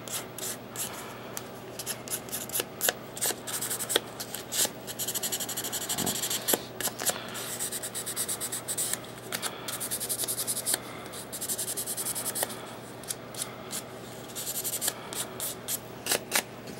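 Metal EDM electrodes are rubbed by hand against fine 500-grit sandpaper, giving a continuous close scratchy rasp in quick back-and-forth strokes with brief pauses, and no voices.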